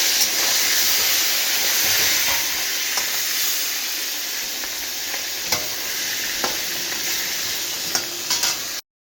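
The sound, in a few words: catla fish frying in a pan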